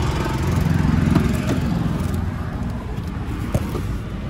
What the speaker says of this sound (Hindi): आप इंजन का नॉइज सुन सकते हो